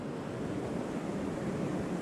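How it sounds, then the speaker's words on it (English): Fast, high river water running through a canyon in Capitol Reef National Park after storms upstream, a steady, dense roar of rushing flow close by, continuous and without voices for two seconds. "The water is running pretty high today too. Pretty fast."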